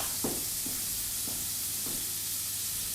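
Leek juliennes sweating in a pan, a steady close hiss of sizzling with a few soft stirring scrapes, alone without talk.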